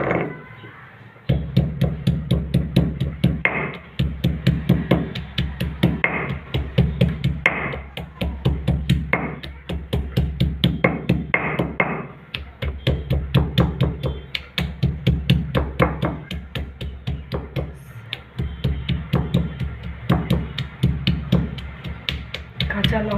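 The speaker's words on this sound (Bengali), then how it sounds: "মশলাটাকে শিলে ঢেলে নিয়েছি, এটাকে গুঁড়ো করে নেব" Roasted spices ground by hand on a stone slab (shil) for an egg and soya chunk curry, giving steady rhythmic scraping and knocking strokes that repeat closely through the whole stretch.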